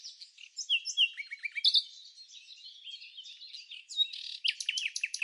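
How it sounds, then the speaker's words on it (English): An African gray hornbill in Cameroon's rainforest canopy calls in a busy stream of high, squeaky whistles and chattering chirps, some falling in pitch, rising in bursts toward the end, fairly close and clear. "the African gray hornbill"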